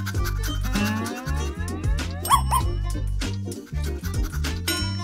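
A dog barks and whimpers with yips in a cartoon-like animal scene at a restaurant table, set over continuous loud background music.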